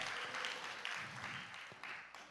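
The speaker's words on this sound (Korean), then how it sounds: "박수로 환영하며 영광 올려드립니다." Congregation at a Gangnam fasting prayer house applauding to welcome the elder pastor of a Seodaemun-gu church; a faint, fairly distant wash of clapping swelling and easing, with no talk.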